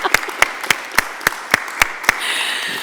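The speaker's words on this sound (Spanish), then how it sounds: "Vamos a dar un aplauso, por favor, porque a mí esto me parece que es fascinante." Rhythmic clapping in a hall, eight sharp, evenly spaced claps at a steady beat, then breaking into a softer, more scattered patter of applause.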